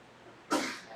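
A single short, sharp sneeze bursts out once in a quiet lecture room, brief and fairly close.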